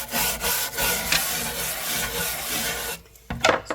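A wooden kitchen cutting board scrubbed during cleaning with lemon juice, giving a loud, continuous close rasping scrub for about three seconds, then a brief pause and a few short scrapes.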